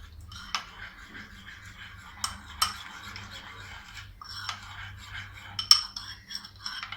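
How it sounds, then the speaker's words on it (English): Spoon mixing ground spices and ajwain (carom seeds) together in a bowl for an achari paneer tikka marinade, giving soft scraping with a few sharp clinks against the dish, close and fairly quiet with low background hum. "Now we will mix all these spices."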